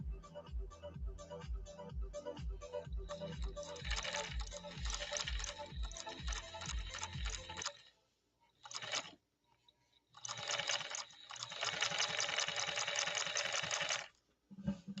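A 1950s Pfaff 130-6 sewing machine stitching, its needle thumping in a fast, even mechanical rhythm close by, stopping briefly, giving a short burst, then running again at speed before halting.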